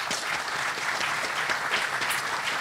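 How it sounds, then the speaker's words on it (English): Audience applause at an expo hall gathering, a short dense burst of many hands clapping at once, steady and fairly close, with no voices over it. "Can we have a round of applause"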